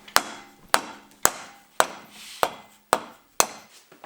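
A hammer strikes a Loctite-seized brake caliper bracket bolt on a C5 Corvette Z06, with seven sharp metallic blows landing about every half second, close and loud, each ringing briefly before the next.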